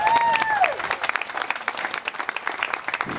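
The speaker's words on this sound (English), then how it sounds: "Let's give them a round of applause for that barbecue." Outdoor crowd applauding a barbecue crew at a mayoral campaign event in Oxnard, a lively burst of many hands clapping, strong at first and then thinning into scattered claps, with a brief whistle near the start.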